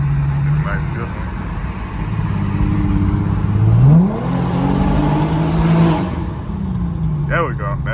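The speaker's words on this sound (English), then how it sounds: "Put the car in sport. Get a nice good one." Infiniti Q50 engine revving hard in sport mode, a loud, close growl that climbs in pitch, drops at a shift and climbs again over steady road rumble, with a voice briefly heard near the end.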